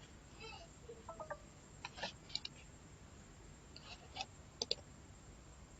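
Quiet computer mouse clicks, several light separate ticks spaced irregularly over a near-silent background.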